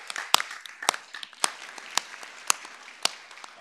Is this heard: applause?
yes